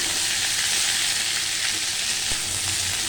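Cucumber and potato pieces frying in hot oil tempered with dried chilli and radhuni, a loud, continuous close-up sizzle with a few stirring clicks and no talking.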